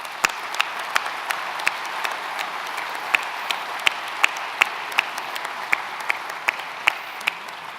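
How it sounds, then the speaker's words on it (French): Audience applause at an insurance agents' congress, a steady wash of many hands clapping with sharper individual claps standing out, moderately loud and continuous throughout. "Juste des applaudissements pour les remercier"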